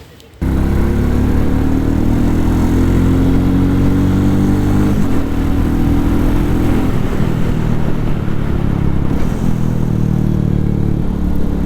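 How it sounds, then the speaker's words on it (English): A 2022 Royal Enfield Classic 350 motorcycle engine starts up and settles into a steady, loud, deep thumping idle, with a slight rise in revs partway through. "let's thump it up"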